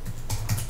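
Brief burst of quick keystrokes on a Mac computer keyboard, close and clear, with a few sharper clicks.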